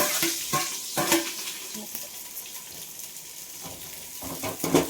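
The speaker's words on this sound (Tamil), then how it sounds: "நல்லா இப்படி வதக்கிக்கோங்க" Onions sautéing in oil in a pan for biryani, a soft steady sizzle with scattered stirring clatters and scrapes, close and moderately quiet, with no talk.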